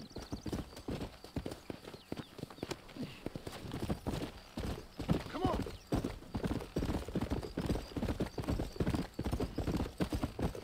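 Horse hooves clip-clop in a steady, fast rhythm while riding in the video game Red Dead Redemption, close and continuous throughout, with an occasional neigh and no speech over them.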